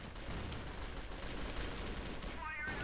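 Gunfire in the online shooter CrossFire, played with a Lewis Gun, comes as dense, continuous rapid fire that fills the whole moment at steady loudness, with a faint voice underneath.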